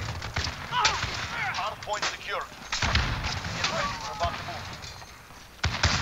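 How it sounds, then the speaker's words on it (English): Grenade blasts and gunfire ring out in a Call of Duty Warzone match, with several sharp broadband bursts, one big blast near the start and another near the end, set against a busy, continuous game mix with voices talking over it. "Somebody is throwing grenades, though."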